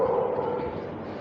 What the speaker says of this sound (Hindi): प्लीज़ डोंट माइंड द आवाज़ ऑफ दिस कुत्ता